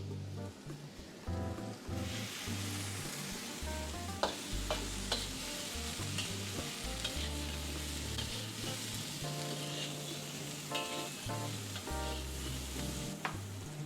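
Beans stir-fried in a hot pan for nyonya-style egg fried rice sizzle loudly and crackle, broken up by repeated tossing and scraping of the spatula.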